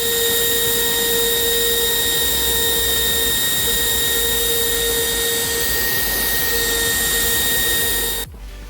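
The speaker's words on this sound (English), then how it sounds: "So we're gonna go ahead and Dremel this all out." A Dremel rotary tool grinds excess plastic off a Honda aftermarket bumper. The motor gives a loud, steady, high-pitched whine throughout, then stops abruptly near the end.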